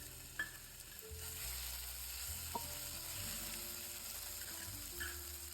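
Ginger-garlic paste sizzles steadily in hot oil with cumin seeds for a cauliflower palya, a continuous close frying hiss broken by a few sharp clicks of a spoon against the pan.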